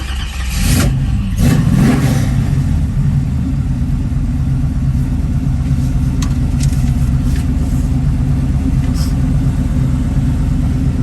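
A 1981 Chevrolet Camaro with a freshly rebuilt engine runs loud and close, with a sharp rev near the start that settles into a steady, deep, rumbling idle.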